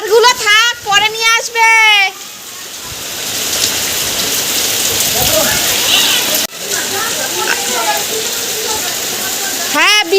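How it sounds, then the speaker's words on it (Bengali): Steady rain falls at night, a dense even hiss of drops that carries on for most of the stretch after a voice speaks loudly at the start and again at the end. "বৃষ্টি পড়ছে"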